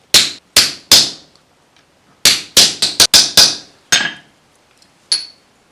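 Hammering rivets into a knife handle made of tough card material, a series of sharp, ringing metal strikes, close and loud, in irregular bursts of three and more with short pauses between.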